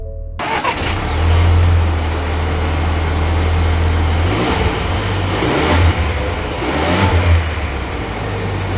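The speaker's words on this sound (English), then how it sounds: "we are setting off here in this Black Widow Ranger" A Ford Ranger Black Widow pickup truck pulls away, its engine rising in a steady rev, then easing and climbing again, close and fairly loud throughout.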